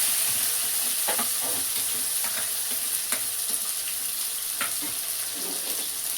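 Mustard seeds splutter in hot sesame oil while a pirandai chutney is tempered, with a steady loud sizzle and scattered sharp pops and crackles close by.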